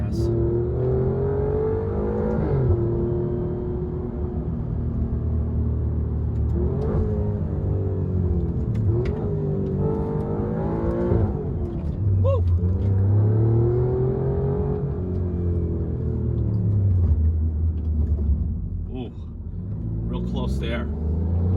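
Alfa Romeo Giulia QV on a hot, humid day, its engine rumbling and building under acceleration from inside the cabin, with someone talking over the steady drone throughout.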